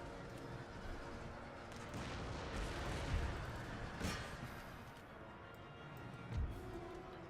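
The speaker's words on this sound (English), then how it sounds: "I'm getting free shots into my army." Gunfire and artillery shots during a land battle in Empire: Total War, a continuous dense rumble of distant volleys with a few sharper cannon booms rising above the din.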